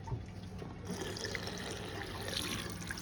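Water runs from a tap in a steady soft splashing stream, faint and continuous, picking up slightly as the flow opens after a moment.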